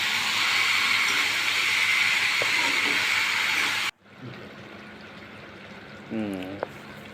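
Chicken meat tipped into a hot pan and stirred: a loud, steady hiss that cuts abruptly to a quieter sizzle with a few close scraping and stirring sounds.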